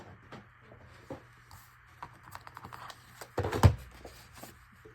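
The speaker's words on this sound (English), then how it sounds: "I'm going to use my guillotine." A paper guillotine trims paper for a junk journal frame. Soft, close rustling and light taps lead up to a single sharp chopping thud near the end.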